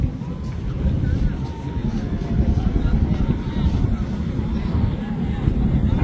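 The passenger river launch Rajhansa 8 travels on a river, a steady low engine and water rumble with wind buffeting the microphone throughout, heard continuously from on board or nearby.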